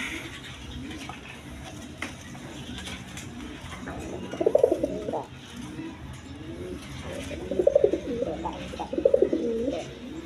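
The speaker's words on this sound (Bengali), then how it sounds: "এইখানে এক পেয়ার কবুতর আছে মিলি কালারের মধ্যে" A pair of mili-coloured pigeons, a male and a female, coo in soft, throaty bursts. The coos come in short groups near the middle and end, over a faint background murmur.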